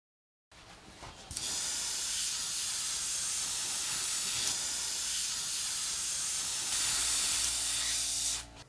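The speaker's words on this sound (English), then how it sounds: "I fill the cup with water 3 times and spray it out." An airbrush spraying out water to clean it, a sharp continuous hiss that starts abruptly, holds steady for several seconds and cuts off at the end.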